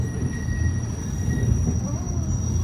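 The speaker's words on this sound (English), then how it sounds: "you can look down and watch your train go under you" A train rumbles past below on an 80-foot-high loop trestle on the Tennessee Valley Railroad, with a low steady roar and metal wheels squealing faintly in a high thin whine.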